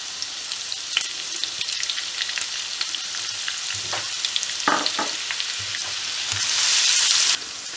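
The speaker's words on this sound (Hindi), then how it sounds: "लहसुन हमारा थोड़ा सा फ्राई हो चुका है" Coarsely ground garlic paste and whole spices frying in cooking oil for chicken keema with chana dal, a soft steady sizzle with occasional stirring scrapes and clinks, close, swelling into a brighter hiss near the end.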